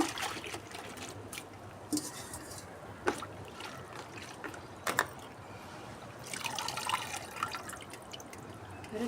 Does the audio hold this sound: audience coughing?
no